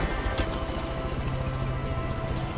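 An aircraft in Far Cry 5 comes in to land, its engine a steady, loud droning rumble with a rhythmic rotor-like flutter throughout.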